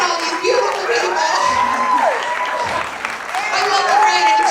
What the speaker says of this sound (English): I want you to give me a big round of applause as all the actors walk out of the stage